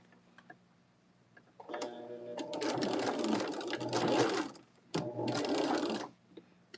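Sewing machine stitching a seam on a Shoo Fly variation quilt block: the motor whirs up into a steady, rapid needle chatter for a few seconds, pauses briefly, then runs again, close and fairly quiet.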